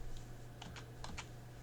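Typing on a computer keyboard, a handful of soft, close key clicks in a quick irregular burst over a low electrical hum.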